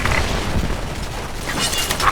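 A bomb explodes in the video game Special Force 2, a dense, loud rumbling blast with crashing debris noise that carries through the whole short moment.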